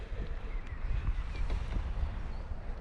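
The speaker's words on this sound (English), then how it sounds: "Now you can hear the wind better too." Steady wind noise buffets the microphone outdoors on the water beside a Nordmann Thunder kayak, a continuous low rumble with faint splashes and no talking.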